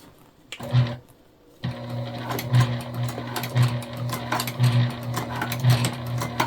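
A sewing machine with a walking foot stitches a tote bag from the inside, a loud, close mechanical hum with a rhythmic clack, briefly starting, pausing, then running steadily with no talk.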